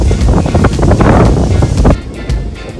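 Strong wind buffets the microphone in loud, gusty rumbles at an island beach grill, easing slightly near the end.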